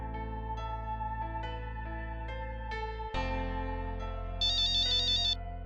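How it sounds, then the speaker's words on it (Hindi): A melodic phone ringtone plays steadily, a repeating electronic tune that shifts pitch partway through and ends with a brighter trilling phrase, with no voices. "तेरा फोन बज रहा है।"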